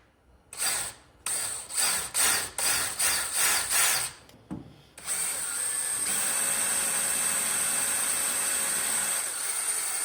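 Small drill bit boring into a broken cylinder head bolt on an antique car engine: several short bursts of drilling followed by one continuous, steady run of the drill, loud and close with no talking.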